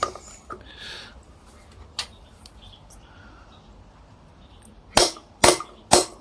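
A hammer bangs a socket onto a Yamaha XS650 rear sprocket, with a few scattered taps early on and then three sharp, loud metallic strikes in quick succession near the end, otherwise quiet.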